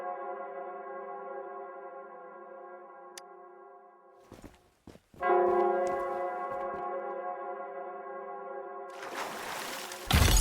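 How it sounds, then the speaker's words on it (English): A resonant church bell in the video game Wuthering Waves, with a long sustained humming ring that fades, then a fresh stronger strike after some clattering footstep-like noises, ending in a burst of splashy noise. "It's the bell."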